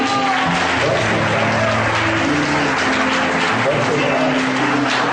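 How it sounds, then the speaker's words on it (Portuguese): A church congregation claps continuously in unison, a loud, even wash of hand claps with voices and music-like tones running underneath the whole time. "E as suas palmas no Senhor."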